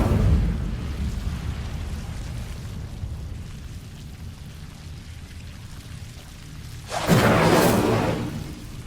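Incendio fire spell cast in Hogwarts Legacy, a sudden loud whooshing burst of flame near the end, after a stretch of low rumbling game ambience.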